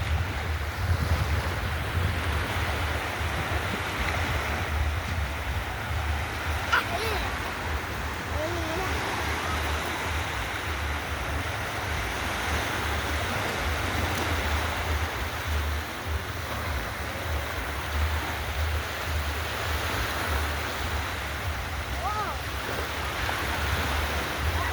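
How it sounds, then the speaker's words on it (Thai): Surf washes steadily onto Mae Ramphueng beach in Rayong, Thailand, a continuous broad rush of breaking waves mixed with gusty wind buffeting the microphone, loud and unbroken throughout. "ทะเลที่ระยองครับ"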